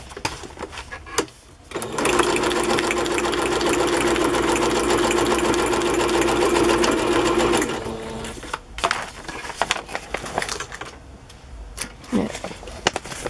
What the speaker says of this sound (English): so now I just have to sew up this side.